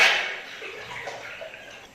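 Paper paste is stirred in a tub of water, a soft swishing slosh that starts a little louder and settles into faint, gentle water movement.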